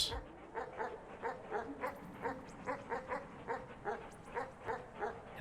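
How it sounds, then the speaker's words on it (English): Dogs barking in the video game Animal Well, a steady run of about a dozen evenly spaced yipping barks, fairly faint and without talk. "Bark, bark, bark, bark, bark, bark, bark, bark, bark."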